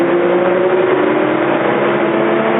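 A loud, steady mechanical roar of a John Deere 843H feller buncher's saw starting up and running at high speed, droning continuously and close by.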